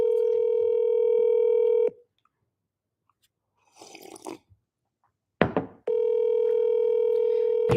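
A telephone dial tone plays while a call is placed to dad. The steady tone runs for about two seconds, cuts out for a quiet stretch with brief chewing-like rustles and a knock, then resumes loudly.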